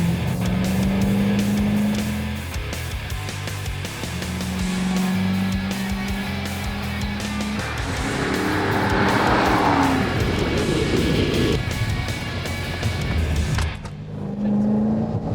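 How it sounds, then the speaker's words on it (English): Car driven fast on a racetrack at around 120 mph, a loud sustained engine roar that rises and falls through gear changes, with tire squeal and skidding as the car gets squirrely, heard from inside. "I'm about to go 120 miles an hour on a racetrack"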